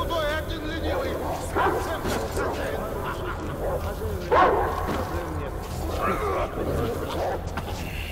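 A dog barks in the video game Metro Exodus, a few yelping barks set against game ambience, with someone talking loudly over them.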